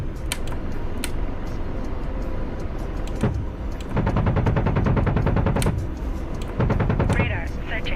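An aircraft gun in a video game fires bursts at SA-5 missile launchers, loud rapid rattling in two long volleys over engine noise and cockpit chatter, with a voice talking alongside.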